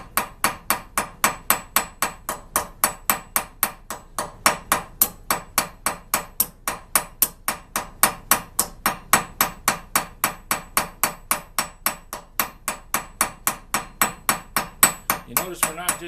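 A homemade steel rivet being hammered over and curled at its edge, steady metallic blows repeating at a brisk even rhythm for the whole stretch, loud and close.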